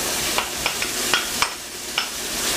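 Peas being stirred into a hot arancini filling in a pan, a soft sizzle under regular scraping strokes of a spoon, about seven evenly spaced scrapes, no speech.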